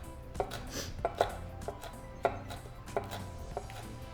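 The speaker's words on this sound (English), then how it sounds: "Now when you chop your peppers, make sure to use gloves." A knife chops habanero peppers on a cutting board, giving a steady series of close, moderately loud thuds and taps with softer scraping between them and no talk.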